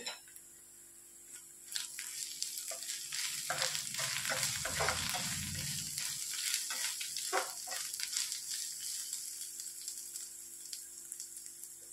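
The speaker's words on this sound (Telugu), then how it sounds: "మొత్తం బాగా ఫ్రై చేసుకోవాలి." Egg masala gravy frying in a pan with salt and cumin powder, a fairly quiet crackling sizzle that swells in the middle as the mixture is stirred, with a low rumble underneath.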